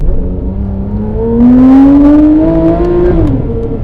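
A modified Porsche 911 GT3 RS (991.2) exhaust revs up loudly and close by, the engine tone climbing, holding, then dropping back to a rumbling idle.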